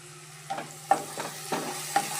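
Shallots sauté in oil for a prawn and drumstick curry, a soft steady sizzle punctuated by four or five distinct stirring scrapes at a regular pace, with a faint low hum underneath.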